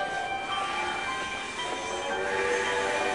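A train speeds past in Paris, a steady close rumbling roar laced with faint high metallic squealing tones throughout, with no voices.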